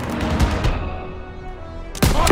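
Gunfire in the World War II video game Call of Duty WWII: a heavy booming burst of shots with ringing decay, then another sharp loud blast near the end, close and forceful.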